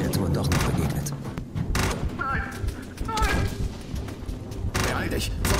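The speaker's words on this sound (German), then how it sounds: "Irgendwo in der Ferne konnte ich Schüsse und Schreie von Soldaten hören." Gunfire in a dramatized SCP-3199 horror story, scattered bursts of shots and booming thuds mixed with shouting voices and tense background sound, fairly loud throughout.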